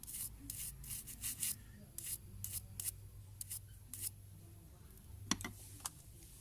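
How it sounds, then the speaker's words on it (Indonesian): Stiff brush scrubbing a diver wristwatch in short bristly bursts, uneven and close, with quiet pauses between strokes and a faint hum underneath. "Kita bersihkan dengan sikat dulu."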